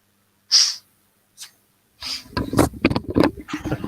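A single sharp sneeze rings out near the mic, followed by a short breath, then people start talking close by.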